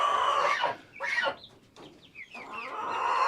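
Several hens fuss and cluck in a backyard coop of mixed breeds, including dark egg layers and a gold laced Wyandotte, with excited bursts of calls rising and falling close by and no talk.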